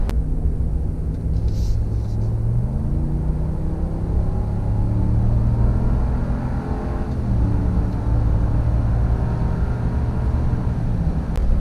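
A 2019 Ram Rebel pickup with a 5.7 Hemi V8 and 8-speed automatic accelerates, a low steady engine rumble with smooth pitch rises as gears shift, heard from inside over road noise.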